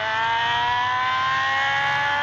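A motorbike engine in the video game GTA San Andreas holds a loud, steady high-pitched whine with a slowly rising tone, close and unbroken, with no talking over it.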